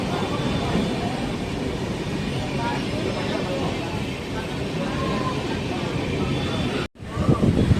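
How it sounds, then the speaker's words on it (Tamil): Train 16231 from Kumbakonam to Erode pulls out of Kumbakonam railway station, a steady loud rumble and rattle of rolling carriages heard from on board, continuing throughout with a brief dropout near the end. "நம்ம கும்பகோணம் ரயில்வே ஸ்டேஷன்லேருந்து டிபார்ட் ஆகிட்டோம்"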